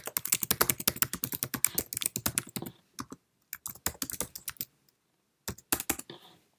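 Rapid keystrokes on a computer keyboard while an email is composed on a Mac, a dense burst of clicking for several seconds, then shorter bursts separated by pauses, close and fairly loud.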